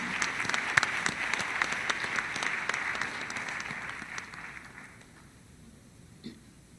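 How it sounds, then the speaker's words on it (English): An audience at a candidate debate claps for the candidates, a dense patter of hands that holds steady, then thins and fades out toward the end with a last few scattered claps. "Let's have a round of applause for our candidates this evening."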